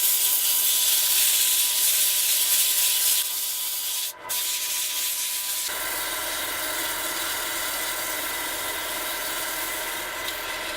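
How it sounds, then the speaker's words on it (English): Steady abrasive rubbing of 100 to 320 grit sandpaper against a wooden peppermill spinning on a lathe, continuous and fairly loud with a brief dip partway through. "the next step then is the sand, starting at 100 grit and working my way up progressively to 320"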